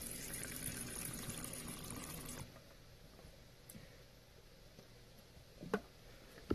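A spray bottle mists water into a pet tarantula's enclosure: a soft hiss of spraying for a couple of seconds stops abruptly, leaving quiet with a few small ticks and taps.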